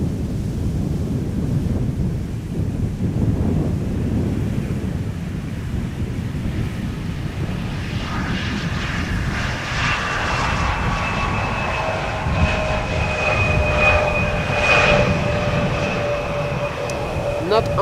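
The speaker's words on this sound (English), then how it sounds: "Here we have KLM flight 1414 arriving from Rennes, Ember 175" A KLM Embraer 175 jet arriving at Schiphol produces a loud, sustained roar with rising whining engine tones in the latter half, while someone talks over it.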